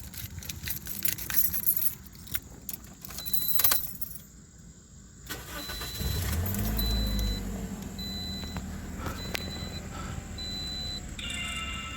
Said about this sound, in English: let me turn on my car and see how that looks